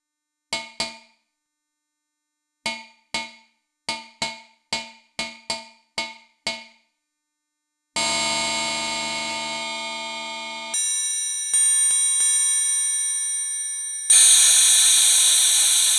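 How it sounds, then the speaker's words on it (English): Bell voice on a drum module, struck as a series of short metallic hits in an uneven rhythm, then sustained ringing tones with effects applied, ending in a bright, loud wash. "Let's put this on the bell."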